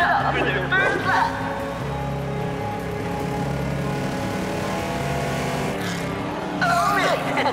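Cartoon race cars roar around a Grand Prix lap, engines droning and revving in a continuous layered whine, with bursts of voices and crowd-like chatter near the start and end.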